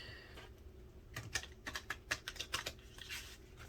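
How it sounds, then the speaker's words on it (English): Stiff tarot cards being shuffled by hand, a quick run of crisp riffling snaps and clicks, close and fairly quiet, with softer rustling before and after. "That was a really crappy shuffle."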